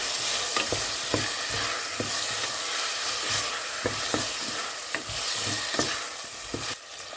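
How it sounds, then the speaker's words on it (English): Clam recipe ingredients with salt and pepper being stirred in a pan, a steady frying sizzle broken by repeated scraping strokes of a utensil at an uneven rhythm, close and fairly loud with no talking. "a pinch of pepper to taste and mix the ingredients."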